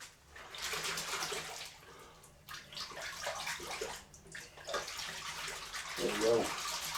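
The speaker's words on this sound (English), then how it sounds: "Give my fingers a wash." Fingers rinsed under a running kitchen tap give a steady, close rush of water that swells and dips as the hands move through the stream.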